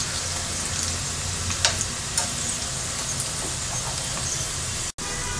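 Ginger garlic paste fries with onion in a pan, making a steady, dense sizzle with a couple of faint scrapes from stirring.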